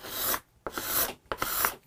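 A metal scraper scraping the wood of a Hofner Galaxie guitar under restoration, three rasping strokes in steady succession with brief gaps between them, close and clear with no talking.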